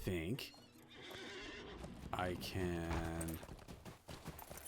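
A horse in a video game neighs and whinnies loudly, with clip-clop hoofbeats, mixed with game sounds and someone talking over it.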